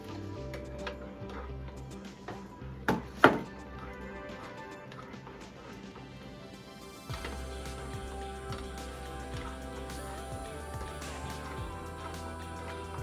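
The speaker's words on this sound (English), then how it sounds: "So now I'm putting in my cornmeal, and I'm gonna mix just as the cornmeal hit the water." Cornmeal is stirred into boiling water for Jamaican porridge. A spoon clicks and knocks against the pot, with a few sharp taps, and then a steadier bubbling, stirring wash carries on, moderately close.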